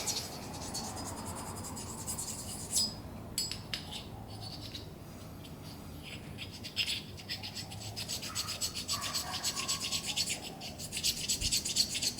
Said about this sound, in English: Taking edges off or just smoothing out a burr is these little stones, ceramic stones.